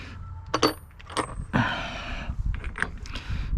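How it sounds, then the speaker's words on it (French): A nut on a boat trailer wheel bearing is tightened with hand tools, producing brief metallic clinks and scraping clicks in an irregular pattern, close up and fairly quiet. "Là on va resserrer l'écrou, mais pas comme un demeuré en fait"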